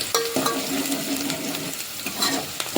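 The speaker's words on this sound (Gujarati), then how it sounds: "હવે આ ડુંગળીને ડુંગળી ચડી જાય ત્યાં સુધીને હલાવવાની છે" Onions stirred as they fry in a pan for a potato and spinach curry, a steady close sizzle broken by scraping spoon strokes.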